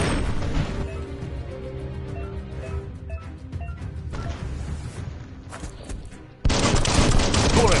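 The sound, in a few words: gunfire in Biomutant video game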